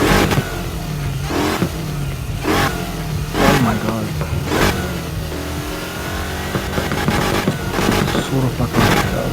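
A BMW M5 drift car in the NFS Heat racing game revs hard in repeated sharp bursts, its engine roaring loudly throughout while a voice briefly exclaims over it.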